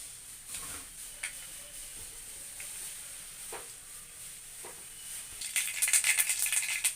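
Mustard seeds sizzle softly in hot oil with scattered sharp pops and crackles, the popping growing denser and louder toward the end.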